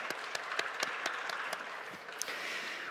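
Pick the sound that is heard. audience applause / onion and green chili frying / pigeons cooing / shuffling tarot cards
audience applause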